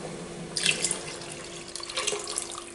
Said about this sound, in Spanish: cojo el medio litro de agua, se lo pongo aquí al bote este